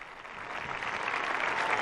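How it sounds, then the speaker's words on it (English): A large crowd of university students at a papal meeting during World Youth Day in Lisbon applauds on their feet, a dense, steady wash of distant clapping that swells slightly. "now applauding, all on their feet"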